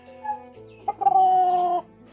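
A chicken at home gives a single drawn-out cluck, rising and then holding for about a second, close by and alone.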